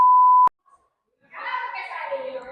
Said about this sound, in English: Just point it at someone and it beeps.